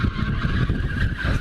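Drift car held at full throttle with its tires skidding, a loud sustained engine roar and broad tire hiss running steadily throughout without a break.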